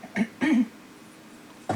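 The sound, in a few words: coughing from a flu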